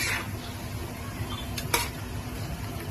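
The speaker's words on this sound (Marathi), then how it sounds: "आपण मटण ना मसाल्यामध्ये टाकलेले आहेत पीसेस, मस्त हलवून घ्यायचं" Mutton pieces are turned through masala in a pan: a low steady sizzle with a brief scrape and metallic clink of the spoon near the end.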